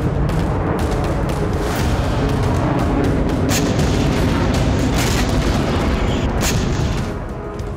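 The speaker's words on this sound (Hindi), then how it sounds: "एक के बाद एक कई धमाके क्रीमिया के फेदोसिया में सुने गए।" Explosions from Ukrainian drone strikes in Feodosia, Crimea, a dense, continuous barrage of booming blasts and sharp cracks that follows one after another at loud, steady intensity before easing slightly at the end.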